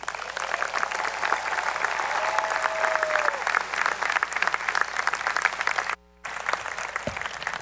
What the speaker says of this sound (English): let's give Allison another round of applause